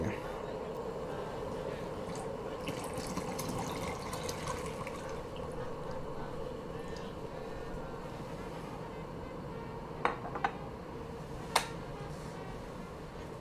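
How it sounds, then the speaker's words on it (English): Warming water is poured out of a teapot during an afternoon tea setup: a steady, continuous liquid rush lasting several seconds, with a couple of brief clinks near the end. "time to pour out all this warming water and replace it with a full teapot of boiling water."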